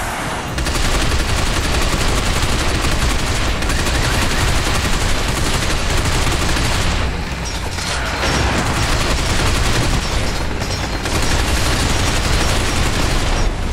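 Dense, continuous automatic gunfire from the video game Binary Domain fills the whole stretch loudly, rapid shots overlapping with brief lulls around seven and eleven seconds, and no talk.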